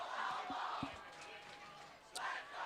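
A stadium crowd at a football game roars and cheers in a broad, sustained wash with rising swells, while a commentator talks over it.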